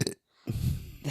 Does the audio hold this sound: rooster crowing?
no